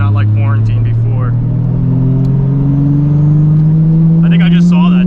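An 800+ hp Toyota Supra MK4 engine drones from inside while driving, a loud steady rumble slowly climbing in pitch as it accelerates, with someone talking over it.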